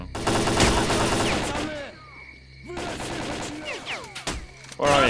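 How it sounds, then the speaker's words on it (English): Bursts of automatic gunfire in the video game Stalker: Call of Pripyat, rapid cracking volleys near and loud, with pauses between them and a final burst at the end. "Somebody's shooting."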